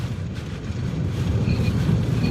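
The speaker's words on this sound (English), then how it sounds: "All right, we just had a gust of 70 here." Strong hurricane wind from Hurricane Ida roaring steadily in Morgan City, a dense low rumbling buffet hitting the microphone at close range with faint higher whistles, no voices over it.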